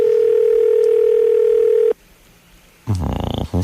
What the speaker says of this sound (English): It's ringing, Howard.